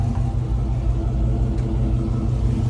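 A 1969 Chevrolet Camaro RS/SS convertible's engine gives a steady, loud, close low rumble as the car pulls away, with no voices over it.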